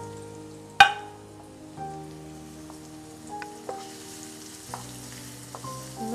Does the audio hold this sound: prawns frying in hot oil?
yes